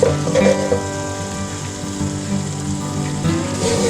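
Steady sizzling and crackling of masala for keema matar frying in hot oil, close up, with occasional soft stirring scrapes.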